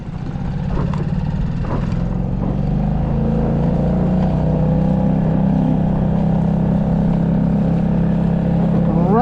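Honda 5HP outboard motor pushing a Sea Eagle FastCat12 at full throttle, a steady close droning hum with shifting tone and rushing water underneath, continuous throughout.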